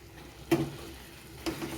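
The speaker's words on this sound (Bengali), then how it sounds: "সেদ্ধ করে রাখা থোড়টাকে দিয়েও কিছুক্ষণ মশলার সাথে কষিয়ে নিতে হবে" Boiled banana stem sautéed with spices in a pan: two brief spatula scrapes over a faint, low sizzle.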